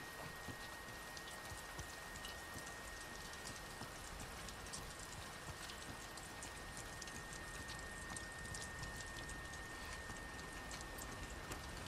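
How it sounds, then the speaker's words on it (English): Heavy rain pours steadily in The Last of Us Part II, a dense, even hiss of drops striking surfaces that fills the whole stretch without pause. "it's fucking raining hard."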